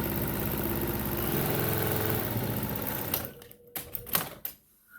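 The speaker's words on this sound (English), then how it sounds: "smooth it out flat and stitch along the inside, right there at the top where the seam was" A sewing machine stitches a fabric bag lining in a steady, rapid mechanical whir for about three seconds, then stops, leaving a few soft handling clicks and taps.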